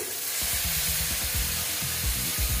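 Water hits poppy seed paste in a hot pan with a loud, continuous sizzle and hiss, broken by low scraping knocks as the mixture is worked around.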